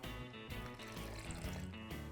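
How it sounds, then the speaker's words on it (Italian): Water is poured into flour in a mixing bowl, a soft continuous liquid pour with gentle sloshing and a few faint knocks against the bowl, fairly quiet and close. "In una ciotola versiamo farina e acqua."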